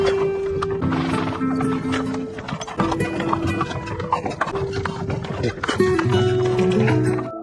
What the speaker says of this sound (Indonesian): Bahkan yang ada hanya becak kereta kuda yang akan ia tumpangi bersama seorang bocil.